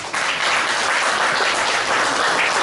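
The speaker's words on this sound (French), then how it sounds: "Vous pouvez les applaudir, les gens." An audience at a presentation breaks into steady, dense applause that holds loud and even throughout.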